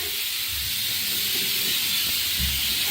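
A pressure cooker cooking lentils and rice releases a steady, loud hiss of escaping steam that runs continuously throughout, with a low rumble underneath.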